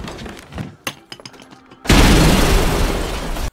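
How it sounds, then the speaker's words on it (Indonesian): A film scene of the Mumbai Taj hotel attack: a sudden loud, sustained burst of gunfire and crashing erupts after quieter scattered sounds and voices, continuing dense and close until the end. "2 pemuda ini menembak orang-orang yang mereka lihat masih hidup"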